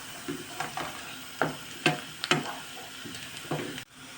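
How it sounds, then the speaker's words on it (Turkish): Sizzling and frying of a large onion sautéing in a pan, with occasional stirring scrapes, a few sharper clatters standing out over the steady crackle. "Bir tane büyük soğan ve güzelce kavuruyorum."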